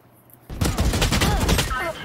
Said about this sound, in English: John, you heard the gunshot and you keep your back towards there.